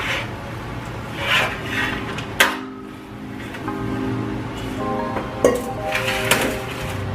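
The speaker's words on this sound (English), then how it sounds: "We've got our meatloaf all made up, and I'm about to dump it out on this broiler pan" A shaped raw meatloaf is dumped out onto a metal broiler pan, with rubbing and scraping, a couple of sharp clanks of metal, and a low steady hum beneath, close and moderately loud.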